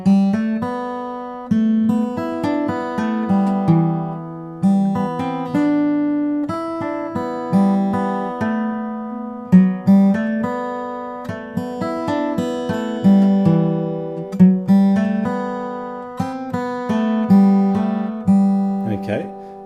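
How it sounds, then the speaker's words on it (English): Guitar melody ringing against open strings, notes overlapping and sustaining into a shimmering wash, played steadily and fairly loud with picked attacks throughout, no talking. "With our open strings, it sounds like this."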